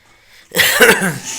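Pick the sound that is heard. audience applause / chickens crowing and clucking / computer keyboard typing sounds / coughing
coughing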